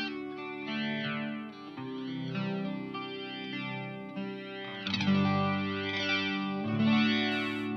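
An electric guitar runs through a Keeley rotary speaker simulator pedal, and sustained chords swirl with a slow, subtle wavering warble, played close and alone.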